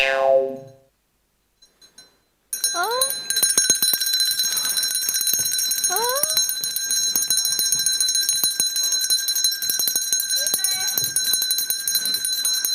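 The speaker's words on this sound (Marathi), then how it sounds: "दरवाजावरची बेल कोणी वाजवली" After a short quiet stretch, a shrill electronic bell starts ringing and keeps going steadily, with a few quick chirping sounds over it.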